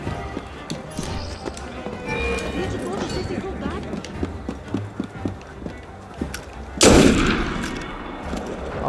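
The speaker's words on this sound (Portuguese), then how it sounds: "Quase que eu morri por causa dos tiros." Gunfire in the game Assassin's Creed Unity, with scattered shots over clip-clopping horse hooves and a loud close blast near the end, under talk.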